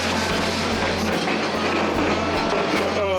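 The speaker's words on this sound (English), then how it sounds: "We on the White Pass Rail. We standing outside the train." A moving White Pass railway train rumbles loudly and continuously, heard from outside a car with steady low rolling noise and faint rail clatter throughout.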